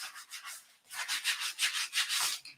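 Hand sanding scrapes over a creamy white wooden farmhouse piece in quick back-and-forth strokes, a soft raspy rub repeating in a steady rhythm after a brief pause, close and alone without talk.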